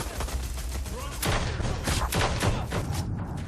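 A burst of rapid gunfire in a dark, militaristic action scene, dense overlapping shots rolling loudly for several seconds, heard without talk.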